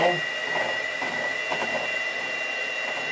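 An electric hand mixer whips homemade mayonnaise with a steady, whirring motor hum and faint rattling as the beaters hit the bowl. A person talks over the mixer at close range.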